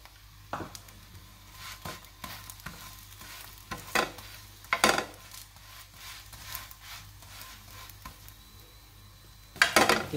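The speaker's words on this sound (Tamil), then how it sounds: "இதில் லேசாக எண்ணெய் ஊற்றுக்கோங்க. ரெண்டு பக்கம் நல்லா செவக்க திருப்பி விடுங்க." Sweet puran poli flatbread fries in a little oil on a pan, giving a soft continuous sizzle broken by several scraping, turning sounds from a spatula, close and alone.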